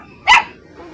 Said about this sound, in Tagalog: Ayaw mo lang dito dahil maraming aso eh